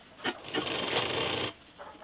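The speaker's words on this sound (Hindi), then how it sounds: "अब इस पर हम फिनिशिंग की मशीन चला देंगे" A finishing sewing machine stitching a fabric pouch, running in one continuous buzzing whir of about a second with brief rubbing sounds on either side, close and fairly quiet.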